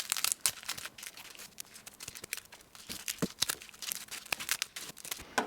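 Dry crackling snips and crinkles as the papery necks are trimmed off hardneck garlic bulbs, a close, irregular run of sharp ticks and rustles without any talking.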